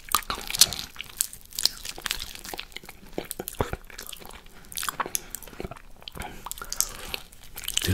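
Close-up ASMR eating of durian fruit: wet bites, soft crunches and continuous sticky chewing sounds, loud and intimate, with no talking.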